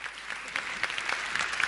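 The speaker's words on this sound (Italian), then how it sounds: "un applauso a Fiorello" A theatre audience at the Teatro delle Muse in Ancona applauds during a sold-out live show, a dense, steady wash of many hands clapping at once, continuous and fairly close throughout.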